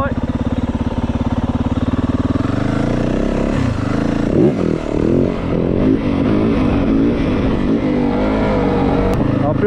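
A Yamaha WR450F 2024 dirt bike engine buzzes loudly at idle, then revs up and down with rising and falling pitch, close by, with brief talk mixed in.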